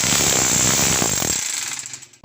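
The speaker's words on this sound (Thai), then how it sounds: "ปรับไปที่โหมดสกัดนะครับ ค้อนเนี่ย" A rapid, loud mechanical hammering rattles from a rotary hammer drill in chisel mode, then stops, leaving a brief quiet whir before a final click.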